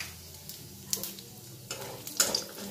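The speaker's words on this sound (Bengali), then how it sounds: "এবার এর মধ্যে জিরে, তেজপাতা, শুকনো লঙ্কা ফোড়নটা আমি অ্যাড করে দিলাম।" Cumin seeds, bay leaf and dried red chilies sizzle in hot mustard oil as a tempering, a steady close crackle with a few stirring scrapes and clinks.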